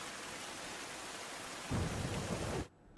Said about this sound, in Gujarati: સુરતમાં ગત રોજ મોડી રાતથી પડી રહેલા વરસાદે ફરી એક વખત સુરતને ગમરોડ્યું છે